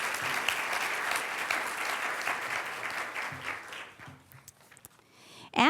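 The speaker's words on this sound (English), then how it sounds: "So let's give Supervisor Ramos a big round of applause." A round of applause from a crowd at a school board meeting reception, steady for about four seconds, then fading to scattered claps before a brief closing noise.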